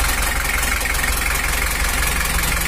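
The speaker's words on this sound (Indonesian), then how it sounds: "Ada suara berisik di klepnya atau kurang rapat, kayaknya terlalu longgar" A Toyota Hiace engine idles with noisy, loose valves, a loud steady low rumble carrying a fast, even ticking clatter close up and unbroken for the whole stretch.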